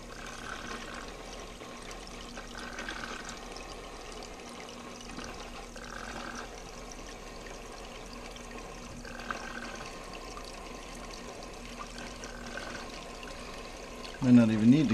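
A siphon draws water and red slime cyanobacteria out of a brackish aquarium, making a steady low trickling and sucking sound throughout that ends in a brief louder gurgle.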